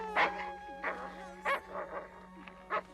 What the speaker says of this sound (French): dites à ce chien d'arrêter de m'attaquer.